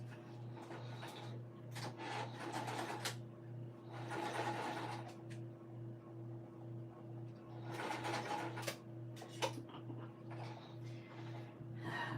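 A sewing machine with an 80/10 needle stitches thin batik fabric, running with a steady rhythmic hum and ticking, broken by bursts of fabric rustling and handling.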